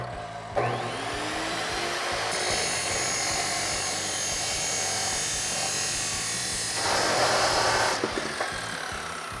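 A power tool cuts through a steel exhaust pipe for a 2019-2020 RAM 1500 Flowmaster dual exhaust install, a loud steady whine that runs nearly the whole stretch and swells briefly near the end before stopping.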